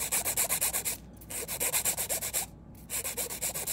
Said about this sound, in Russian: Пил выполняю белой пилочкой 100 на 180, здесь у меня абразив.